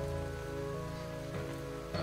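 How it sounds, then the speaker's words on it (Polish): Rain falls steadily in the video game Starbound, a soft continuous patter over low tonal game sounds, faint and without speech. "Tu wszędzie leje, okay."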